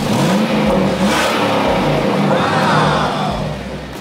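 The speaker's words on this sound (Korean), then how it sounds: "배기량이 크고 엔진 소음이 막 어마어마하게 멋지게 나서 상남자를 상상하게 하는" A 2005 Chevrolet Avalanche pickup with a 5.3-litre V8 revving up and falling back, deep engine roar swelling in loud repeated surges close to the microphone.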